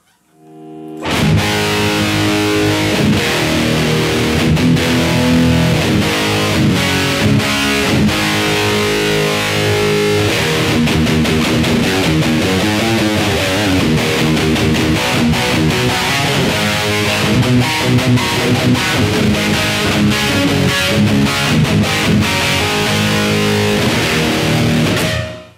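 Electric guitar played through a Hughes and Kettner Spirit of Metal nano amp with heavy distortion, loud and continuous chugging riffs and sustained chords filling the whole stretch with no talking.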